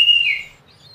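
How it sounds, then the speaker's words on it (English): A single seagull call, a clear bright cry that rises and then trails off in under a second, heard alone against quiet wind. "watching the seagulls soaring in the wind"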